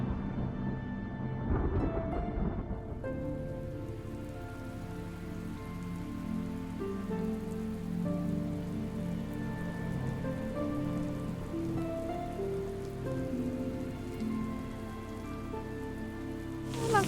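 Rain falls steadily on surfaces, a constant patter and hiss lasting throughout, with sustained musical tones layered over it and a brief louder rustle near the start.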